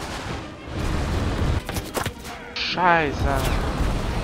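Enemy artillery fire in the video game Enlisted, set in Berlin's Wilhelmstrasse, sounds as several heavy booms and rumbling blasts over a few seconds, mixed with a shouted voice and other battle noise.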